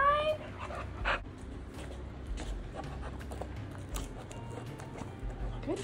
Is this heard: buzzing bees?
no